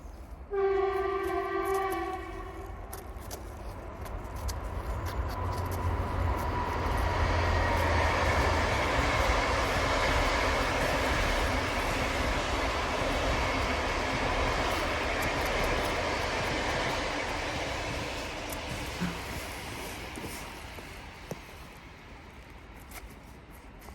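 A train passes close beside the railway track, opening with loud horn blasts and then a long heavy rumble of wheels and cars that swells, holds and slowly fades away.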